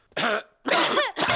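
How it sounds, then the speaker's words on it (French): A cartoon character coughs three times in quick succession: sharp, voiced, close-up bursts with brief silent gaps between them, with no other sound around. "C'est à présent au tour des adultes d'attraper la toux de Pedro"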